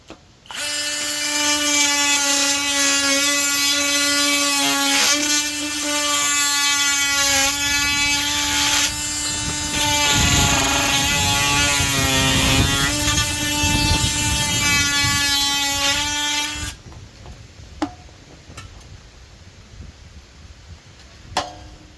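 A Milwaukee M12 Fuel and a DeWalt 12V oscillating multi-tool are cutting, giving a loud, sustained high-pitched buzzing whine that runs steadily for about seventeen seconds, then stops, leaving a few faint clicks.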